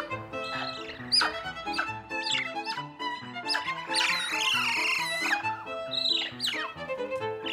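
Excited high-pitched chirps and trills from several woolly monkeys given grapes in an enclosure, overlapping and continuous, fairly close and loud with squeaky rising calls.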